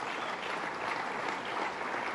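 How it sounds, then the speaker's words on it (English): Faint, distant applause from the audience at a governor's speech, a brief, even hiss of many hands clapping with no distinct claps standing out. "Let's give her a round of applause"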